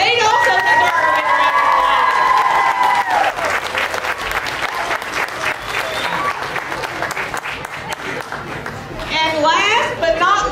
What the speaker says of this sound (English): They also deserve a big round of applause.